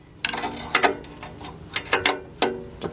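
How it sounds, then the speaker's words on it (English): Several sharp metallic ratcheting bursts from a socket ratchet being turned on the 3.7 engine of a 2003 Jeep Liberty Sport, close and clear, in short irregular strokes. "Get the ratchet in place."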